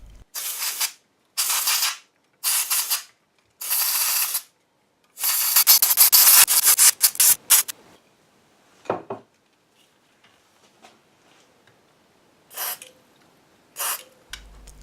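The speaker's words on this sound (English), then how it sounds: "I'm now carefully following up from the air duster can with the switch cleaning lubricant" Several short bursts of hissing air duster spray onto a mixing desk circuit board come close by, separated by pauses, followed by quiet clicks and light handling sounds, with one more brief spray near the end.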